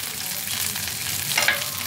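A filling seasoned with salt, turmeric and sugar being sautéed in a pan, giving a close, steady frying sizzle with a brief scrape of stirring near the end.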